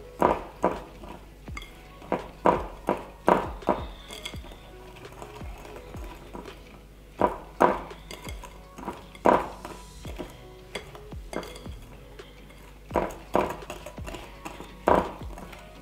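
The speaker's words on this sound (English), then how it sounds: "just mix thoroughly with your spatula" Spatula scraping and knocking around a bowl while mixing custard scone mixture with icing sugar, a repeated uneven rhythm of soft thuds and scrapes, moderately close, with quieter stretches between strokes.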